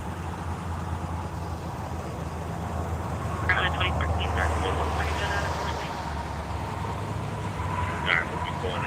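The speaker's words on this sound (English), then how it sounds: "Is that Fox 31's helicopter?" A TV news helicopter circling over a highway rollover crash on I-76 near Eagle Boulevard, heard as a steady low rotor drone that persists throughout under muffled background voices.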